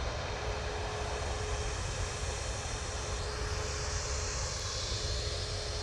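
A Ryanair airliner inbound from Guernsey to Manchester Airport makes a steady, broad engine roar that holds at an even level throughout, with a faint tone riding over it and no voices.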